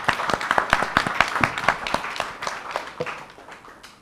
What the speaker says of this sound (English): I just want everyone to give you a round of applause